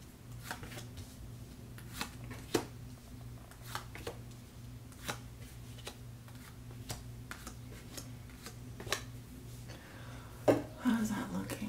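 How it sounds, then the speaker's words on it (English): Tarot cards are shuffled by hand, producing soft, irregular riffles and taps near the listener over a low steady hum, with one louder flurry near the end. "one more good shuffle for Cancer."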